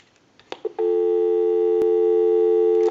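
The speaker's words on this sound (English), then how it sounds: "So we'll go ahead and give you some dial tone," Dial tone on a Western Electric Trim Line telephone: a loud, steady, even tone that starts after a few faint handling clicks and holds for about two seconds.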